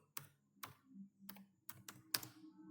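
A computer keyboard is tapped in a handful of separate, sharp keystrokes at an uneven pace, quiet and close, with no one talking.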